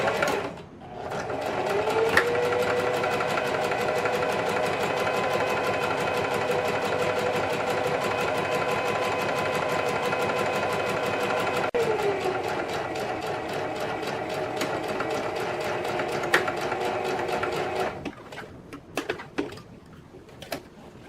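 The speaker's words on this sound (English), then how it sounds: "Now we're going to edge stitch all 4 flaps of our mask." A sewing machine runs steadily while edge stitching the flaps of an octagon origami face mask, a close, continuous whirring drone that stops near the end, followed by a few scattered clicks.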